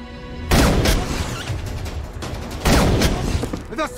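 Heavy gunfire effect for a sniper shooting prisoners from long range: two loud, booming blasts with rumbling tails, the second near the middle, above a continuous dense background roar.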